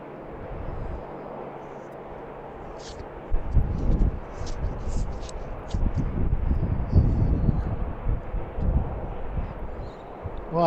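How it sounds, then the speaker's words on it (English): A jet airliner arriving to land on runway 10 at BWI airport in Baltimore makes a steady distant roar that swells after a few seconds, with wind buffeting the microphone throughout. "It's our first arrival on runway 10, coming in from the west."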